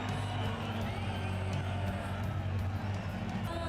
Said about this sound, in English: The crowd sing along and the atmosphere is incredible.